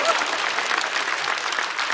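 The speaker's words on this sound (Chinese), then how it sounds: "可以鼓掌。" Audience applause at a stand-up comedy show: dense, even clapping from a large crowd, sustained at steady loudness for about two seconds.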